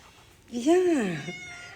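A house cat gives one drawn-out, rising then falling meow close to the mic, lasting under a second, in a quiet room.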